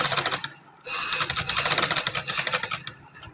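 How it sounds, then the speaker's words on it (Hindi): A sewing machine stitches trouser fabric up close, its rapid rhythmic clatter starting after a brief pause and running in short bursts before slowing at the end. "तो आप ये सिलाई लगाएं"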